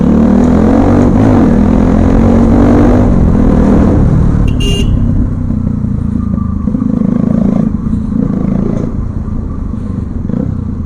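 Modified 2013 Bajaj Pulsar NS200 motorcycle running close and loud, a steady throbbing engine drone with a shift in pitch midway and brief crackling exhaust pops.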